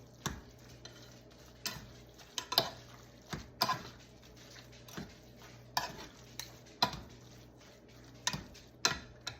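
Taco seasoning being stirred into chopped roast beef in a pan, a steady run of soft scraping utensil strokes with regular clicks against the cookware and a faint sizzle underneath, close and quiet.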